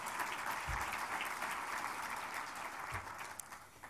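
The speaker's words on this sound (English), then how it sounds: "Another round of applause." Steady audience applause fills a large hall at a national mentoring summit's opening session, a continuous wash of distant clapping throughout with no voices.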